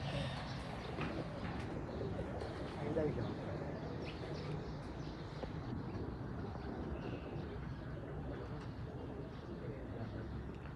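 Taddy breeder pigeons cooing in a loft, soft low coos running steadily under someone talking throughout.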